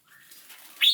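A small caged songbird being held while a leg ring is fitted gives faint rustles and light wing flutters, then a sudden sharp chirp right at the end.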